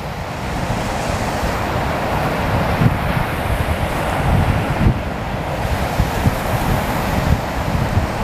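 Ocean surf rolls steadily onto a quiet beach on the Fourth of July, with continuous wind buffeting the microphone and a broad, even wash of breaking waves throughout.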